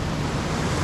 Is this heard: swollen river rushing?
yes